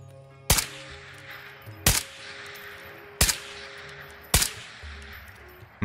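Four sharp, loud rifle shots from the VR game Ghosts of Tabor, each about a second apart and spaced slightly unevenly, with a fifth shot starting at the very end over a low background hum.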